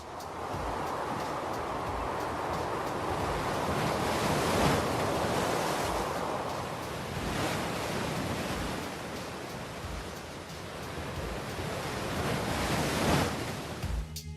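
Large winter ocean waves break in a continuous, roaring wash of surf, swelling and easing without pause, with no voices over it.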